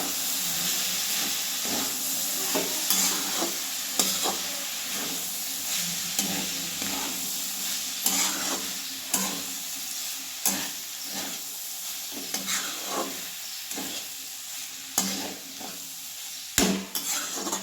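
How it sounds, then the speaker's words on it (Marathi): Ground peanut powder stirred into food in a pan: irregular scraping spoon strokes over a steady background hiss and sizzle, close and moderately loud, with no talking. "आता टाकूया बघा एक चमचा शेंगदाण्याचा पोट बारीक केलेला मिक्स करून घेऊया"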